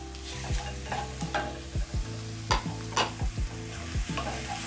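Garlic and onions sizzling in hot oil while being stirred, with rhythmic scraping strokes of a utensil against the pan over a steady frying hiss, close and fairly loud.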